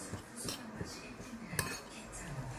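Chili pepper, minced garlic and fish sauce being mixed in a bowl, with light repeated clinks and scrapes of a utensil against the bowl, close and quiet, under faint background noise.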